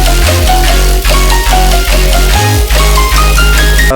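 Layered marimba run through distortion, a disperser, EQ and OTT compression plays a dense, bright, heavily processed melodic pattern over a pulsing deep low end, loud and continuous throughout with no voices.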